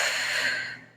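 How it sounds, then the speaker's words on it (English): A forceful exhalation during an abdominal breathing exercise, one steady breath pushed out through the mouth close to the mic that trails off quietly at the end. "So breathe all that air out"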